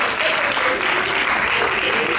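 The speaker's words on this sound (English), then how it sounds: "clap for them again." Sustained applause from a church congregation at a consecration service in the Bahamas, a steady dense wash of clapping that stays loud and even throughout.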